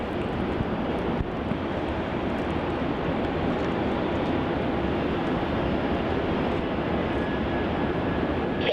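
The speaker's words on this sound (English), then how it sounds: "Coming in now, we have Qantas flight QF609 landing from Brisbane." Qantas flight QF609, an airliner landing at Melbourne Airport from Brisbane, gives a loud, sustained roar of jet engines and rushing air, heard from fairly close, steady through the whole stretch with a thin whine in it.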